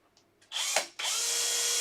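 A power drill with a brad point bit bores through a wooden drawer, spinning up loudly after a few faint clicks, pausing briefly, then running steadily and close.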